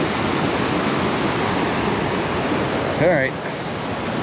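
A waterfall on the Wonderland Trail at Mount Rainier roars as a steady, full wash of falling water, with a brief spoken word over it.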